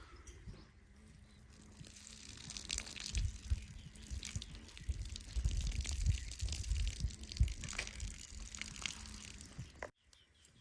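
Raw mutton is rinsed by hand in clean water, with steady close sloshing and splashing, scattered drips and the clatter of pieces in a vessel; faint birdsong sits in the background before a sudden stop near the end.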